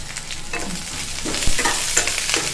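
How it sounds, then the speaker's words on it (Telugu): Ingredients and tamarind fry in a pan over a low flame, with a soft, steady sizzle and a few scraping stirs and light clatters close by. "ఇది కొంచెం సిమ్లో పెట్టి వేయించుకోండి"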